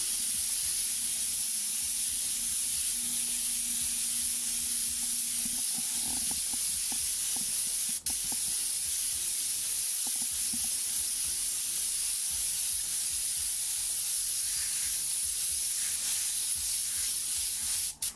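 An airbrush sprays paint in a wide, even pass, blending overspray into the background over detailed flame licks, a steady close hiss running without pause throughout.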